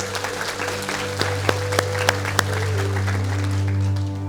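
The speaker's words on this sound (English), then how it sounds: "Let's give them a big round of applause." Audience applause at a business talk, steady crowd clapping with a few sharper claps standing out, heard over a constant low electrical hum and continuing throughout.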